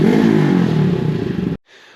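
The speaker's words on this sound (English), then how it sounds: "With one silencer in there right now, it's really not that loud." A Honda Grom motorcycle with one silencer fitted revs close by, its engine giving a loud, buzzing note that pulses slightly before cutting off abruptly near the end.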